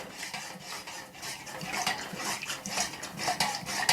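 Melted candle wax mixture being stirred in a pot, with quick irregular scraping and clinking of a utensil against the container, close and continuous, with no talking.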